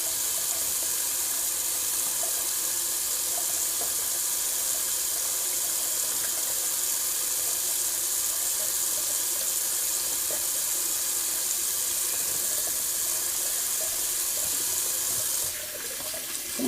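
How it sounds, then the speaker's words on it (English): Cold water runs steadily from a bathroom tap into a sink during a wet shave, a close, continuous hiss that holds for the whole stretch and stops briefly near the end. "So I'm just going to do a little cold water rinse."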